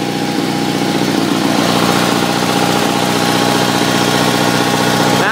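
A 1974 Sears Suburban SS16 garden tractor engine idles steadily and loudly up close, a constant rumbling drone with a slight mechanical hum, running alone with no talk.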